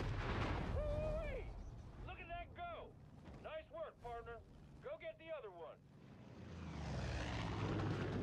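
An airplane engine roars in the Far Cry 5 video game, loud at the start and swelling again at the end, while a voice speaks over the quieter middle stretch.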